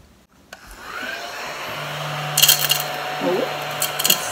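A Crumby handheld mini vacuum, sold as seen on TV, switches on and runs with a steady motor whine and airflow hiss, close and fairly loud, with a few clattering bits as it sucks up debris.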